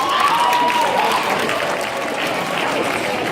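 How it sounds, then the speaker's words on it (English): An audience at a motivational talk applauds itself, with sustained crowd clapping and cheering, fairly loud and even, and a voice faintly audible in the mix. "So I want you to give yourselves a round of applause"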